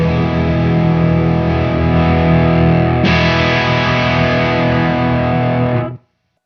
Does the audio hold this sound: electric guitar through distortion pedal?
yes